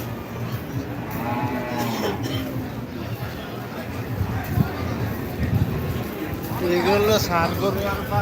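Sahiwal cattle at a busy traditional cattle market at Zinzira Bazar let out a few deep moos, the loudest near the end, over constant crowd chatter and nearby talking.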